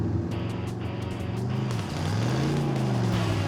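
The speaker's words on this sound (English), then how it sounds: "Tire spin." A drag racing car, a Mazda-based Mazdarati project car, launches with its tires spinning. The engine roars loud and close, rising in pitch, while the tire noise rasps underneath.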